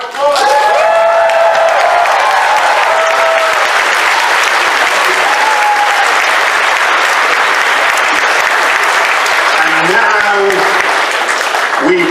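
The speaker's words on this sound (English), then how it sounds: "Give Chris and Jim a big round of applause." Loud, sustained audience applause fills a Transformers fan convention panel hall at TFNation, with a few voices and faint tones over the steady clapping throughout.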